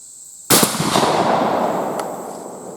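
A 12 gauge shotgun, a Browning Maxus II, fires a single Hevi Teal number 6 load at a 25-yard target, giving one loud, sharp blast close by that rolls into a long echoing decay.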